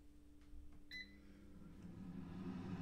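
A Cosori Dual Blaze air fryer starting after a button press: a short two-tone beep, then a quiet, rising fan whir that settles into a steady hum, faint and close.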